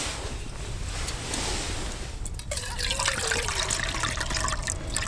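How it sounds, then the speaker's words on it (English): Water is poured into a pot on a twig stove outdoors, starting as a broad wash of noise and shifting to a clear trickling, splashing pour near the microphone. "pour a bit more water into this one"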